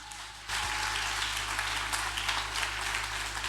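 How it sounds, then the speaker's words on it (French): A church congregation at a French-language worship service bursts into sustained applause, a dense steady clapping that holds evenly over a low background hum. "On acclame la parole du Seigneur."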